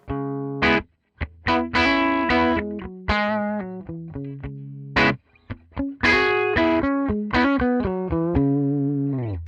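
Distorted electric guitar on a humbucker bridge pickup, through a simulated '59 Bassman LTD amp in Amplitube 5, plays chords and sustained notes in bursts with brief gaps, loud and close, heavy with effects.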